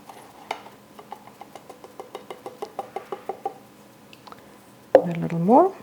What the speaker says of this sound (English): mix it with some of the egg yolk